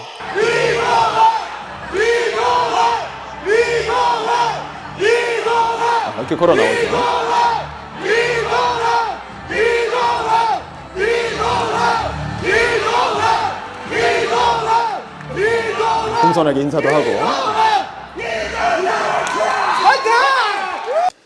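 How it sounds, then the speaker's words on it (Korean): A crowd of about 50 campaign supporters at a political speech shouts and cheers in repeated rhythmic bursts, loud and close, while a voice talks over the chanting. "전체적으로 한 50명 정도가 모여서 자기들끼리 소리 지르고 있는 거예요"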